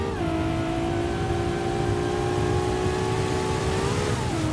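A video game car engine revs hard under a nitrous boost, a steady loud droning whine holding high pitch and then dropping at the end, with no one talking.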